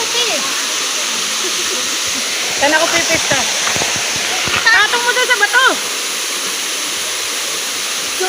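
Kagbuho Falls roars in a loud, constant rush of falling water, while people talk over it briefly in the middle.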